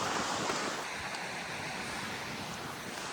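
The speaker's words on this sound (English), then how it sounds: "It's got so windy that I've made the executive decision to put the hat on." Strong gusty wind on a Lake District fell buffeting the microphone, a loud broadband roar that eases slightly after the first second and then holds steady, no voices.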